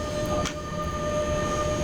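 An E186 electric locomotive hauling a heavy train in the SimRail video game rumbles along steadily, with a continuous mechanical drone, faint wheel tones and a short clank, close and unbroken by speech.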